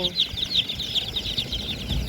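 Chickens of several breeds at a poultry farm cluck repeatedly nearby in quick, overlapping bursts over low farmyard background noise.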